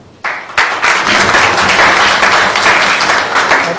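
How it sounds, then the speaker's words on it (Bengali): An audience at a political speech breaks into applause, a loud, dense burst of many hands clapping that starts abruptly and holds steady for several seconds. "আপনারা হাততালি দিলেন দেখে ভালো লাগলো আমার"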